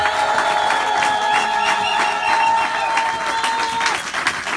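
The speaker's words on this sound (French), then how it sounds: "Que quelqu'un acclame le Seigneur avec le cri de joie." A church congregation applauding and cheering in praise, a dense, loud wash of clapping and joyful crowd noise that holds steady throughout with a sustained tonal layer beneath.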